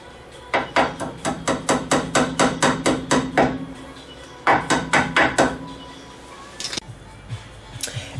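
Hammer tapping a cotter pin on a lower ball joint of a 1997-2004 Ford F-150 truck, a quick run of about a dozen sharp metallic taps, a pause, then a shorter run of taps and a few scattered knocks.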